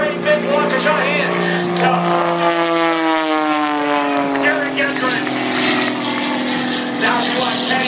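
Propeller aerobatic airplane at the Waukesha air show flying along the shoreline, its engine drone loud and steady with a sliding pitch as it passes, under a PA announcer's commentary.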